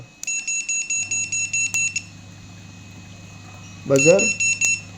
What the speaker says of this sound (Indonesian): Untuk bagian di sini buzzer